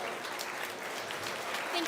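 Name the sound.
audience applause for kids at swine showmanship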